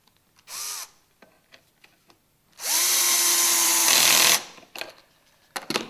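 A drill drives a pocket hole screw into a wooden joint, with a short spin-up burst, several light clicks, then a longer loud whirring run of about two seconds that winds down, followed by handling knocks.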